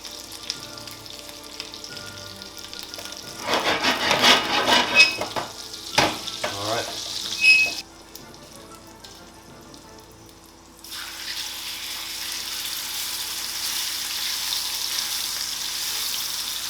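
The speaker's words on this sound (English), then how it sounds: "put in some fresh fat, and put in our Scotch fillet" Scotch fillet steak laid into fresh hot fat in a pan set over medium heat, giving a steady frying sizzle that swells as the meat goes in, with a few knocks and louder hissing bursts before settling into a constant background hiss.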